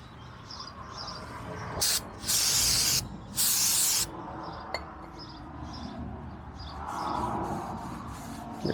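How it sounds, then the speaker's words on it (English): Brake cleaner sprayed from an aerosol can onto truck front-end brake parts during a brake job, two loud hissing bursts about a second each, close up, with softer shop noise between. "we need to wipe this all down with some brake clean"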